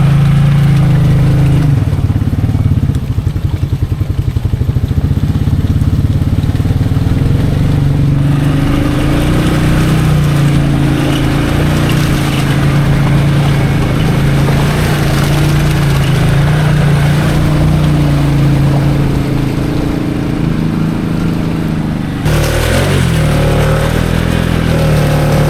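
A Maverick XMR Sport ATV engine runs steadily through soupy mud, a loud continuous drone with shifting revs that rises and falls, then a brief dip near the end.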